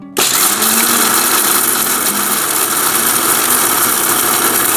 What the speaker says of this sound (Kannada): ಈಗ ಮಿಕ್ಸರ್ ಕಚ್ತೀನಿ ರೀ